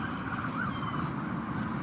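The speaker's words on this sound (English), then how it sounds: "Put your siren. This is kill your siren." Police car siren wailing steadily during a training scenario of a carjacking at a crash site and high-speed pursuit, loud and continuous with broadband outdoor noise and no voices.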